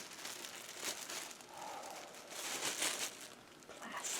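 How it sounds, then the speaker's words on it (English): Close, steady crinkling of a small plastic packing label, with irregular crackles and rustles running throughout and no voices. "Got a little packing label."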